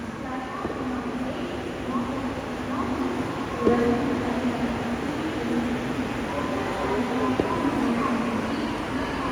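A train rumbles steadily nearby with a low rolling drone, while a crowd murmurs and voices chatter faintly over it.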